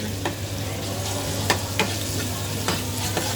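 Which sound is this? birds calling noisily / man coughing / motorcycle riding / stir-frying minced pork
stir-frying minced pork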